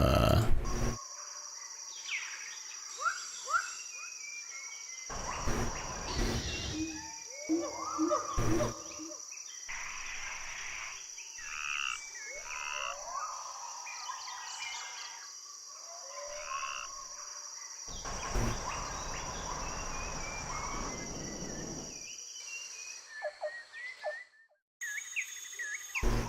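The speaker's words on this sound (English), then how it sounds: "I just kind of like the crickets" Crickets chirping in a jungle nature ambience, a steady high insect trill running throughout alongside frog croaks and bird calls, with some bursts of broadband noise.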